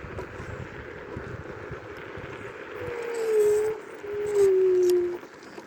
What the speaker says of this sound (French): le bruit, c'est mon bruit de mon moteur de trotte quand il commence à tourner vite